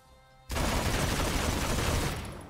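Gunfire in the video game Gunfire Reborn, a sudden loud burst of rapid shots that starts after a quiet moment and holds steady for about two seconds before easing.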